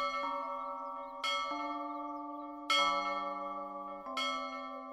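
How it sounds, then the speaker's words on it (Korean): A church bell tolling in an audio fairy tale, four resonant strikes spaced roughly a second or so apart, each ringing on with a long sustained hum, clear and alone. "종소리가"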